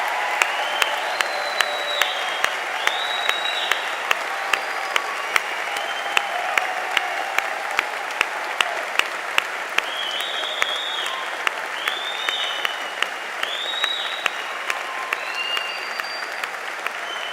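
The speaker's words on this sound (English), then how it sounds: "Class of 2025, give yourselves one more round of applause" Graduating students give themselves a long round of applause at an outdoor university graduation ceremony on a hot day, with steady dense clapping, a few sharp louder claps and birdsong chirping through the crowd.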